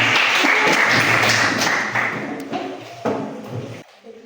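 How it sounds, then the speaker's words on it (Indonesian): Classmates in a seventh-grade Christian religion class applaud a group presentation with a thick burst of clapping that holds strong, then loosens into fewer, uneven claps and stops abruptly near the end. "Berikan tepuk tangan untuk teman kita kelompok 3."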